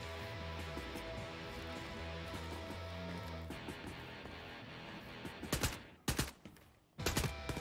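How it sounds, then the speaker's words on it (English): Gunfire in the video game Wolfenstein Youngblood, rapid automatic bursts over a droning, tonal background, building into several sharp, loud volleys near the end. "Somebody shooting me from the side?"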